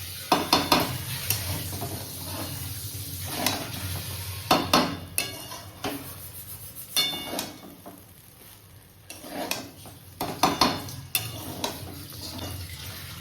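Chicken, egg and rice fry in a pan for a restaurant-style dish, a soft continuous sizzle broken by repeated sharp scraping and clattering of a spatula against the pan, close and without talk.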